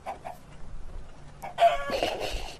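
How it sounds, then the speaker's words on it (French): Clucking from a Minecraft chicken, a few short bursts early on, then louder, brighter clucks near the end over quiet game ambience. "J'ai trouvé une poule, mais elle m'a pas lâché"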